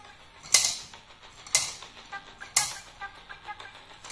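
Abacus beads being slid on one at a time during a children's counting game: three sharp clacking clicks spaced about a second apart, close and crisp, with faint rattling in between.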